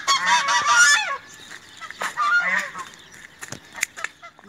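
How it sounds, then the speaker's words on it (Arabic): Geese honk loudly and close by at an outdoor oasis filming location, a burst of overlapping harsh calls followed by scattered shorter honks and squawks. "وفي بط"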